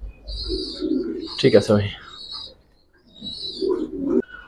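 Giribaz pigeons in a loft give soft, throaty coos in short phrases. A voice cuts in briefly between them.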